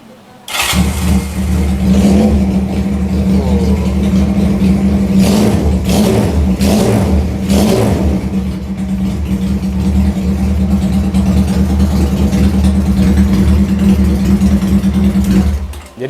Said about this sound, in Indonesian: Kalau knalpotnya pakai knalpot free flow kayak gini, langsung kita coba.